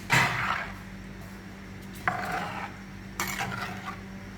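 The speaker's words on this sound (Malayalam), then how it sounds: "എന്നിട്ട് നന്നായിട്ട് ഇവനെ മിക്സ് ചെയ്യുക." Fish curry masala with ground coconut is stirred and mixed in a pot, a few separate scraping clinks against the metal spaced out over a few seconds, close and moderately quiet.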